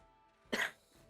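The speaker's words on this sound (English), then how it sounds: "Caught me at the end of a cough." A single short cough from a person playing a tabletop role-playing game, faint and close, standing alone in a quiet room.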